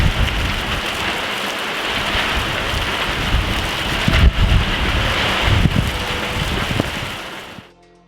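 Heavy rain pours steadily during a night storm, a dense close wash of drops drumming on surfaces with some wind gusts, continuous and loud throughout before cutting off at the end.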